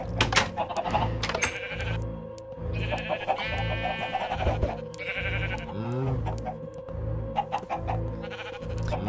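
Sheep bleat repeatedly in the Minecraft server Nations Glory, several overlapping calls over a rhythmic, thumping game soundscape.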